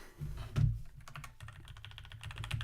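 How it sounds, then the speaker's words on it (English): Steady typing on a computer keyboard placed close to the mic, with rapid irregular key clatter running the whole time and one heavier thump near the start. "I'm actually going to switch keyboards for typing this documentation"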